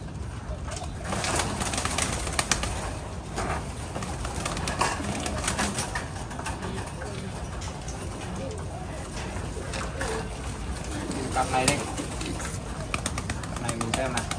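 Thai Titan pigeons coo in a loft, a continuous busy bed of soft cooing and fluttering with a person talking over it.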